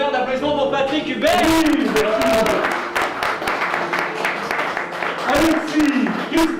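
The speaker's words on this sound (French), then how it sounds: "Un tonnerre d'applaudissements pour Patrick Hubert." Theater audience applauding a performer at the close of a magic show, a dense, loud wash of clapping with a voice speaking over it.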